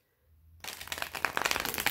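Tarot cards shuffled by hand in a quiet room: after a brief near-silent lead-in, a dense run of quick, crisp riffling and flapping card sounds, close and steady to the end.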